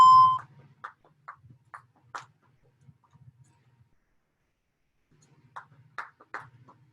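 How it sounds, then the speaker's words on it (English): A workout interval timer gives a short, clear electronic beep at the very start, followed by quieter, scattered sounds with no speech. "And you guys should be able to hear my timer."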